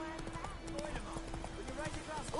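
Horse hooves clip-clopping in The Witcher 3, a steady trotting rhythm running under game speech and background music, fairly faint and continuous throughout.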